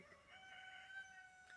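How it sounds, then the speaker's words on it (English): Roosters crow faintly in the background, a thin drawn-out call rising and holding, quiet and distant with no talk over it. "if you can hear the chicken roosters in the background"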